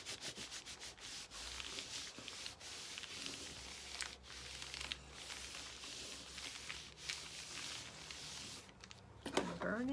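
Paper is burnished by hand on a Christmas lunch bag mini journal, making repeated close, dry rubbing and scraping strokes in uneven bursts, with a brief crinkle at the end.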